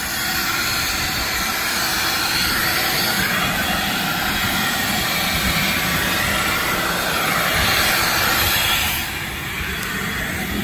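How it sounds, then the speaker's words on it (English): A vacuum cleaner gives a loud, steady whooshing roar that runs continuously, broadband and close, dipping slightly near the end without stopping. "Sorry about the noise, it's the vacuum cleaner."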